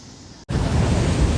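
Strong sea waves break and roar near the shore where an angler casts a line, a steady loud wash of surf that surges up sharply partway through and stays close and continuous.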